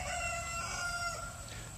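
A pet rooster crows in one sustained, ringing call, fairly close and alone, with no voices over it.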